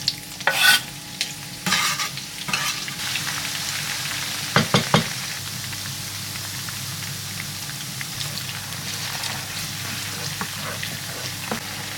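Onion frying in a wok for Nigerian stew, a steady close sizzle broken by scraping and clattering stirring strokes near the start and middle.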